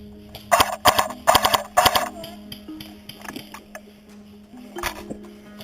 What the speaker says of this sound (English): HPA going off in the background.